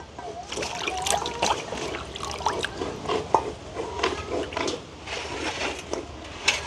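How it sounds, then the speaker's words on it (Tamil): Green beans are rinsed by hand in a basin of water, with light splashing and trickling close by in irregular bursts throughout, and no speech over it. "இதை வந்து கழுவி ஒரு பாத்திரத்துக்கு எடுப்பேன்."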